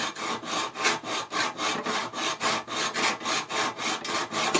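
A hand plane shaves a long wooden taper in steady, rhythmic strokes, each rasping pass close and even, repeating about three times a second without pause.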